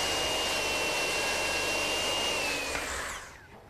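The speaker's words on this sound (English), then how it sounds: "I've taken my saw and tipped it to 45 degrees" Power saw tilted to a 45-degree bevel cutting a wooden hip rafter for a cupola, a loud steady whine up close that holds for a few seconds and then winds down as the cut finishes.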